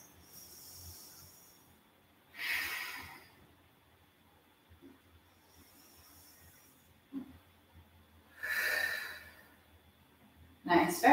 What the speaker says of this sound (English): Take three more deep breaths.